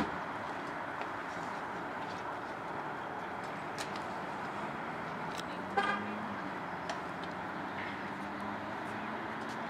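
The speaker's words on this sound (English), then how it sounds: "Another car arriving." A car arrives and pulls in at St. Mark's Roman Catholic Church, its low rumble steady beneath outdoor ambience, with a brief horn-like toot midway and faint birds in the background.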